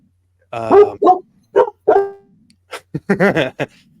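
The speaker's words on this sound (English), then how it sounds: "The dog is very vocal tonight, folks." A dog barks close and loud in a home setting, a string of sharp separate barks and yips, a few in the first two seconds and a quicker burst after a short pause, with no talk.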